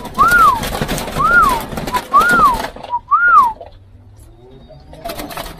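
Spotted doves in breeding cages cooing close by, four rising-falling whistled coos spaced about a second apart, then quieter rustling and faint background noise.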